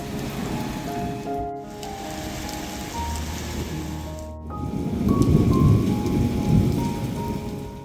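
Steady rain pours down in a passing thunderstorm, with low thunder rumbling through the middle and the downpour swelling louder toward the end; no one speaks.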